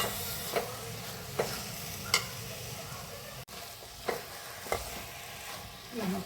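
Carrot halwa being stirred in ghee in a pan, with a soft sizzle under repeated spoon scrapes at a slow, uneven rhythm, fairly quiet and close.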